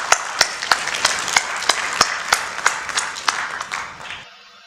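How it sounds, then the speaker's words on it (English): An audience at a city address claps, a steady patter of hands with a few sharp individual claps standing out, before the applause cuts off suddenly. "I think this deserves a round of applause."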